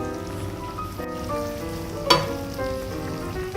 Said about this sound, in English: Now we're going to be cooking it onto the stove for another 5 minutes to make sure the sauce is nice and hot